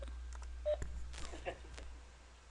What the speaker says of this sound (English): I'm texting on my cell phone.